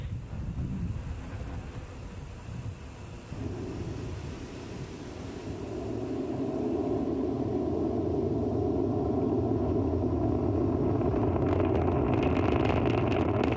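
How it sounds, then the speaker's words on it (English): SpaceX Falcon 9 first stage climbing after liftoff from Complex 39A at Kennedy Space Center, a steady distant broadband rocket rumble that slowly swells and roughens toward the end. "We can hear the characteristic rumble as the first stage heads into space."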